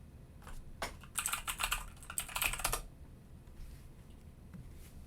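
Keys on a computer keyboard tapped in a quick burst of clicks, fairly close and quiet, then a few scattered keystrokes before it falls still.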